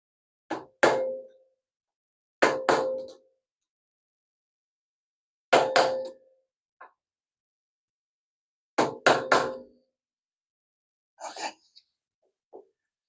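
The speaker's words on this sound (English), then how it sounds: "Now we're just going to give it a little tappy tap to make sure it's seated." Sharp knocks tap a FOXBC helical cutter head into place in a Dewalt DW735 planer, arriving in close pairs and short bursts with pauses between, near and distinct in a quiet shop, ending in a few lighter taps.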